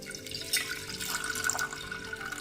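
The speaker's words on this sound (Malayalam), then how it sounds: "ഇനി ഇതിലേക്ക് ആവശ്യത്തിന് വെള്ളം ഒഴിച്ചു കൊടുക്കാം" Water pours steadily into a pot of lentils, a continuous splashing trickle at close range with no talking.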